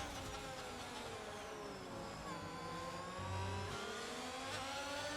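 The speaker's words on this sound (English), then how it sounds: "so actually he's got very fast cars behind, and Ronan spun!" Race cars in a sim racing game at the Australia round whine steadily at high revs, and several engines layer and rise and fall in pitch as they run close together through the field, loud and continuous.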